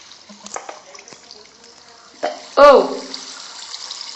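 Water being placed in the Minecraft video game, a sudden splash followed by a brief flowing gush, with faint clicks and game sounds before it.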